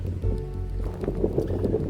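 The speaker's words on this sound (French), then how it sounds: "il y a du vent" Wind buffets an outdoor microphone in a steady, low rumbling rush that rises and falls slightly, with no one talking.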